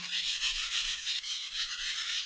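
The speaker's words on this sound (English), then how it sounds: "I'm going to sharpen that side a couple more times again, just to make sure" Steady, close rasping strokes of a knife blade being sharpened on a medium grit whetstone, a continuous scraping hiss with slight rhythmic swells and no talk.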